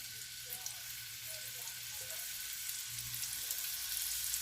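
Shrimp searing in a hot pan, a steady high hissing sizzle that holds evenly throughout, faint and close with a low hum beneath.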